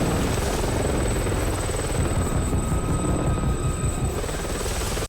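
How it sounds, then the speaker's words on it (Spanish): Helicopter in a movie scene from 28 Weeks Later, a loud, dense rotor roar filling the whole stretch at close range, steady and unbroken until it cuts off abruptly at the end. "Un helicóptero"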